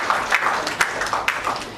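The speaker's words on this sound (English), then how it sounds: "Can you give a big round of applause if Sardar Pritam Singh ji can please honor Sardar Singh ji" Audience applause at an Indian book launch honoring guests, a short burst of scattered clapping with sharp individual claps rising and falling, fairly close and with no talk over it.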